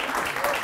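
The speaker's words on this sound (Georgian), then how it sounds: "მართლა უდავოთ აპლოდისმენტები კიდევ ერთხელ" A studio audience at a late-night show applauds in a brief, steady burst of dense clapping, with a voice faintly over it.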